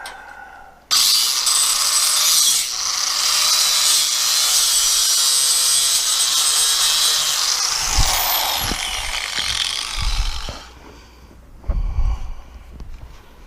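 Power tool with a cutoff wheel cutting metal for a fire pit log grate, a loud harsh grinding whine that starts abruptly and runs for about nine seconds, then winds down, followed by a few clanks and knocks.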